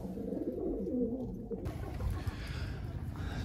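Pigeons in a loft coo in soft, low, repeated calls close by, while a duller background rumble carries on underneath, with no voices.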